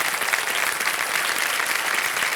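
A television quiz show studio audience claps for a contestant who has chosen to quit, producing a thick, steady burst of applause that fills the room at constant loudness.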